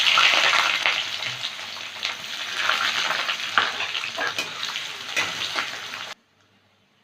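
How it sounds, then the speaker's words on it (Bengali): Sliced onion sizzling in hot mustard oil in a kadai, a steady close crackling fry with occasional stirring clicks, running loud for about six seconds before cutting off to near silence. "পেঁয়াজটা একটু ভেজে নেব।"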